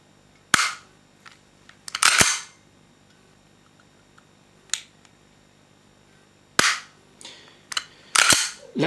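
Trigger on an airsoft FN FNS-9 pistol being pulled and released, giving sharp, close mechanical snaps and clicks, scattered singly and in pairs with quiet gaps between them.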